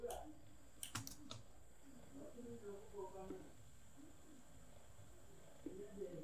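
Quick computer keyboard typing, a brief burst of clicky keystrokes near the start, then a person talks over quieter room tone.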